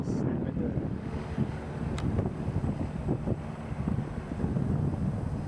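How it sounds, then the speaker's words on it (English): Strong wind buffets and roars across the microphone in continuous gusts during a crosswind landing at Manzanita, with a faint Cessna engine drone underneath. "It's a windy day."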